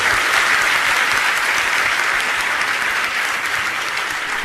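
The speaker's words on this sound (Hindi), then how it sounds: "एक बार तालियां तो बजा दो इन लोगों के लिए" Steady, dense applause from a large audience at a Jain religious discourse, loud and continuous throughout without pause.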